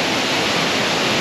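A waterfall in Pakse, Laos, heard as a steady, close, full roar of rushing water with no breaks and no voices.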